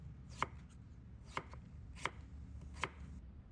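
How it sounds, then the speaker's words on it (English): A knife chops through stacked raw potato slices into thin strips on a cutting board, four sharp, evenly spaced cuts standing out clearly against a low, steady background hum. "I stack a few slices of potato on top of each other and use a knife to cut them into thin strips."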